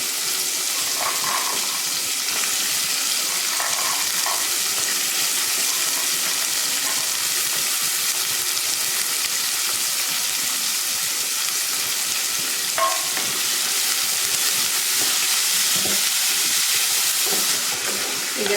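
Shelled mochai field beans sauté in a pan for kulambu, a steady close sizzle with occasional stirring scrapes and light clinks running throughout, no speech.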